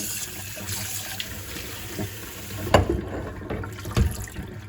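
Cold water is sprinkled over drained rice in a colander, a close and steady running and splashing with louder bursts near the end, and no voices.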